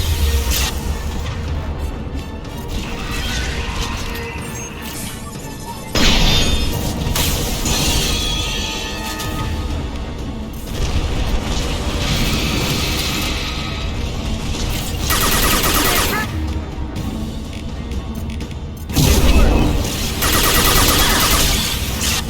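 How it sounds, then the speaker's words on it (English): Anti-ship batteries in Mass Effect 2 fire as dense, booming volleys of crashing blasts, loud and near, with surges around a few moments and a constant roar of explosions throughout. "Firing anti-ship batteries at collector vessel."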